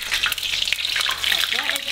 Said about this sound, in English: All right, and start to deep fry.